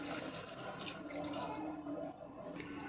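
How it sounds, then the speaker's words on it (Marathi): A cup of water goes into a pan of cooking vegetable curry with a continuous gurgling splash, fairly close, then eases off near the end. "त्याच्यामध्ये मी 1 वाटी पाणी घालणार आहे।"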